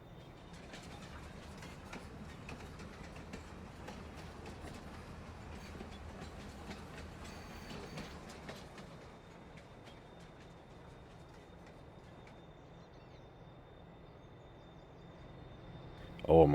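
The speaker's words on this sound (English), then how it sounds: "The train is here." A train rolls past in Farming Simulator 22, a steady clattering rumble of wagons with rhythmic clicks that fades after the first half, fairly faint throughout, ending in a brief louder knock.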